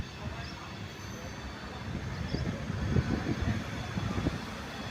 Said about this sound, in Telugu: వ్యాప్ 7 లోకోమోటివ్ అయితే ఇప్పుడు మన వివేక్ ఎక్స్ప్రెస్ని పుల్ చేస్తూ ఉంది